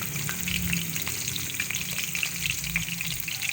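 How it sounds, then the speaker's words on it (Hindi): Potato and spinach pakoras deep frying in hot oil, a steady dense crackling sizzle that holds at an even level throughout, close and alone without any voices. "कैसे अच्छे तरीके से जो है ना फ्राई हो रहे हैं पकौड़े हमारे"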